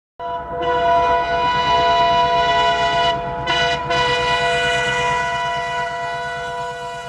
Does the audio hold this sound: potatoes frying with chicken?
no